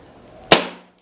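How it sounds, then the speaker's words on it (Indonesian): A single sharp air rifle shot from a budget big-game pellet rifle, one loud crack midway with a short decaying tail, alone in a quiet setting. "Masuk ke tembakan yang kedua."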